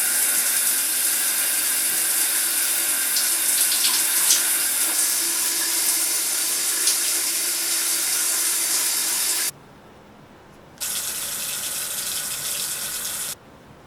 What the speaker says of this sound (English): Now I'm gonna take a shower